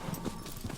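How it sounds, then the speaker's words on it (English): Horses come galloping in within the video game Shadow of the Colossus, their hooves clip-clopping in a quick uneven rhythm at moderate loudness, with no voices. "These guys come running in on horses"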